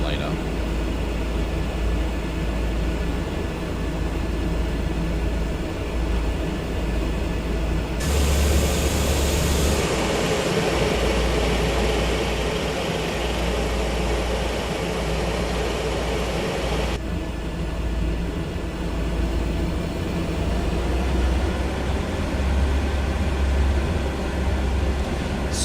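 An aircraft taxiing slowly on the ground in Microsoft Flight Simulator 2024 gives off a steady, continuous engine drone with strong low rumble. The drone brightens briefly about a third of the way through and stays level and unbroken throughout.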